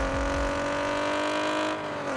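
Car engine revving loudly in Car Parking Multiplayer, a sustained high-pitched whine with steady tonal harmonics that holds and then drops slightly near the end, close and dominant with no voices.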